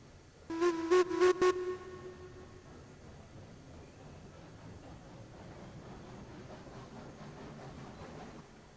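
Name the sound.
train running on track in Railroads Online video game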